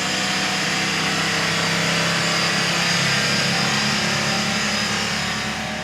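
A car engine with a broken gearbox revs hard and steadily without the vehicle moving, a loud, sustained drone that holds throughout and eases slightly at the end.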